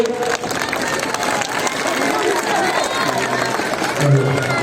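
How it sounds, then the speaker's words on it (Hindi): Rally crowd in Alamganj, Patna applauding and cheering to welcome Praveen Kushwaha, a dense, steady wash of clapping and hubbub mixed with voices throughout, swelling slightly near the end. "तालियों से इनका स्वागत कीजिए"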